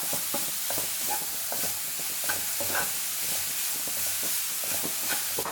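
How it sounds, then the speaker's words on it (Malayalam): A beetroot stir-fry seasoned with salt is stirred in a pan, with a steady run of scraping spatula strokes over a soft, continuous sizzle; no voices. "എല്ലാം കൂടി നല്ലപോലെ ഒന്ന് മിക്സ് ചെയ്ത് കൊടുക്കാം."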